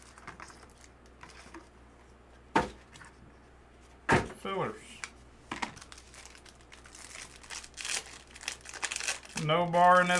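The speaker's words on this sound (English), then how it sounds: "the blaster case goes next. That's going to take a while to rip that" Trading card blaster case being ripped open during a sports card break: crinkling, tearing wrapper and cardboard handling in short bursts and sharp rustles, close and moderately loud, with speech over it.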